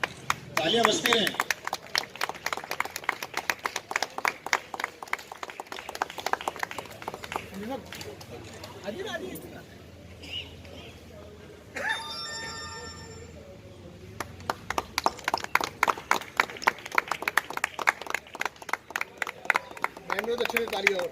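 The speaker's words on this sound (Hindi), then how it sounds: "तालियां बजती रहें।" At a cycle rally event in Geeta Colony, a crowd claps in steady rhythmic applause. The clapping eases while a voice speaks in the middle, then returns strongly near the end.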